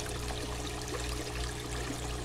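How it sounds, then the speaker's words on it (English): Water draining through a bell siphon in a previously clogged, overflowing grow bed, a faint continuous trickling flow with a low steady hum underneath. "The water in the siphon all went down."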